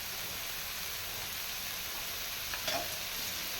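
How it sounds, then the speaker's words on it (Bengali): Steady, broadband sizzling of taro stolons frying in a hot pan, continuous throughout with a brief clink of a utensil near the end. "আমি এখন কচুর লতিগুলো দিয়ে দিচ্ছি"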